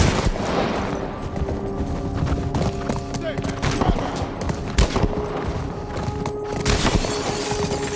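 Scattered gunshots in The Last of Us Part 1 ring out through a busy game scene with a low musical drone, irregular sharp cracks rising over a steady background, moderately loud throughout.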